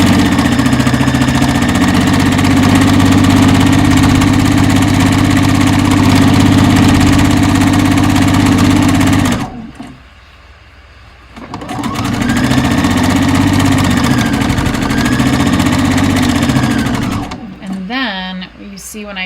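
A sewing machine sews around a fabric hat, running close and loud for about nine seconds. It stops briefly, then starts again for another long stretch of even mechanical whirring before a faint rustle at the end.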